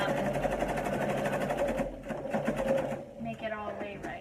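A sewing machine runs a gather stitch on dress fabric, its fast, even mechanical whir loud and close for a few seconds while someone talks over it.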